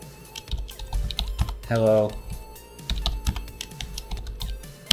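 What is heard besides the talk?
typing on a computer keyboard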